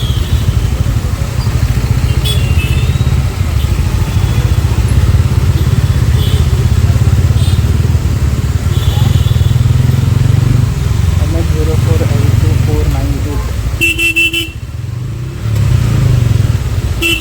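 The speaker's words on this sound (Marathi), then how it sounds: "ही माझी एक फेवरेट बाईक आहे यार, ॲडव्हेंचर." An adventure motorcycle's engine runs steadily and loudly close by for the whole stretch, a low continuous drone with a brief dip near the end, while people talk over it.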